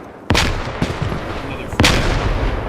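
Frag grenade blasts and gunfire in a tactical shooter video game, a few sharp loud booms over a constant noisy battlefield rumble.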